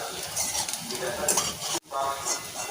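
Homemade paneer fries in hot oil with a loud, continuous sizzle and stirring scrapes, broken once by a momentary pause before the sizzling resumes.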